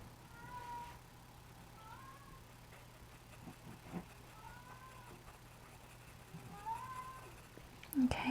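A cat meows four times in short, evenly spaced calls, soft and slightly distant in a quiet room with a low steady hum behind it.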